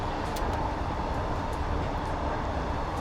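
An S8 Stock train driving in the Train Sim Classic game, a steady, even rumble and hiss of running on rails with faint high squeaks, no voices.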